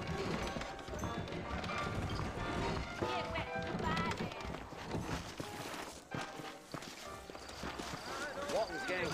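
Horse hooves clip-clop at a walk on a dirt trail out of a frontier town in the video game Red Dead Redemption, steady footfalls mixed under continuous music, ambient game sound and talking.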